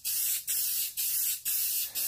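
A shaken spray paint can coats a tumbler in four rhythmic bursts, each a loud, close, hissing spray lasting about a third of a second and separated by brief pauses.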